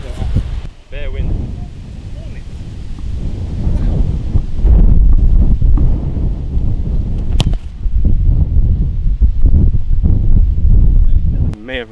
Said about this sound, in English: Bare wind.